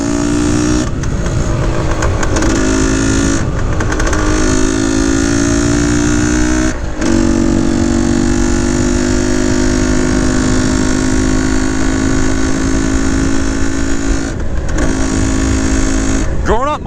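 A 1970 Yamaha RT1 360 two-stroke motorcycle engine revs up and holds steady at high pitch, dropping back briefly between several sustained blips, loud and close throughout.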